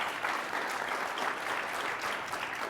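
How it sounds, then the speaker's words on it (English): Applause from a symposium audience for a panelist, dense steady clapping heard from a distance at moderate volume, filling the short moment without pause. "Round of applause for Ron."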